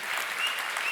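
An audience at a Tamil Christian sermon claps in a dense, steady burst of applause that fills the short moment.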